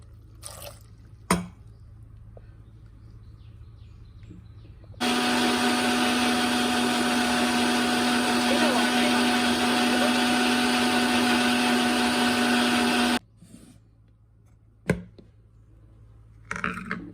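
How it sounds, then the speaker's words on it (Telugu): A mixer grinder blends grapes with a cup of water in its jar, giving a loud, constant whirring roar for about eight seconds. A few quiet knocks and clicks come before and after. "ఇదండి గ్రేప్స్ని మిక్సీ జార్లో వేసి కొంచెం ఒక ఒక కప్పు వాటర్ అయితే పోసుకోండి సరిపోతుంది"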